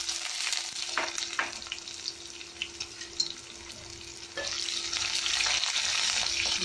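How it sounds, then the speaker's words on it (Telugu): Ginger pieces fry in hot oil in a pan for pickle, giving a steady close sizzle with occasional stirring scrapes and a brief louder burst near the end, no voices present. "అల్లం వేగడం టైం పడుతుంది"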